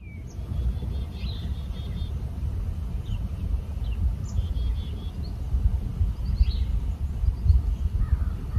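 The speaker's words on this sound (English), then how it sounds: "I can hear the birds chirping." Birds chirp outdoors in a garden on a foggy winter day, small scattered calls a little way off over a steady low rumble of wind and distant traffic.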